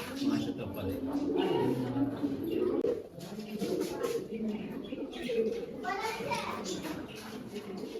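Low, rolling pigeon coos repeat continuously close by, mixed with people and children talking in the background.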